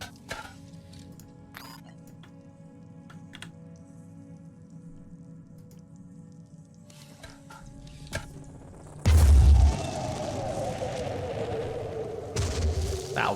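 Grenade blast in the video game Phoenix Point, a single loud boom partway through, followed by a sustained rumbling tail over quieter ambient game sounds.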